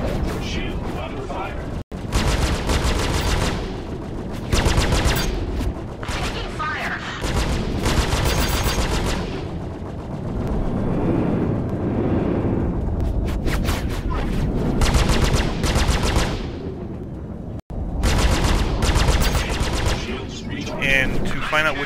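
Weapon fire in the space game Star Citizen, loud sustained bursts of rapid automatic shots with booming impacts, broken by short pauses, with a voice talking over parts of it.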